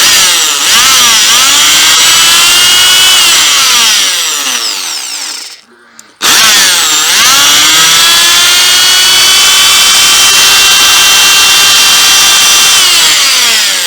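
Dnipro-M electric drill switched on after repair, a loud high whining motor that spins up, runs steadily, stops briefly, then restarts and whines on with rising and falling pitch, no speech.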